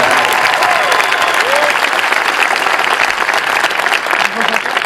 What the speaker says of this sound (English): just quickly give a round of applause for them